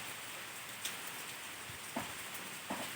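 Continuous gentle rain hiss with occasional sharper drops tapping nearby, quiet and even, no voices.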